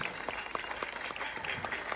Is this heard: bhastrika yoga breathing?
no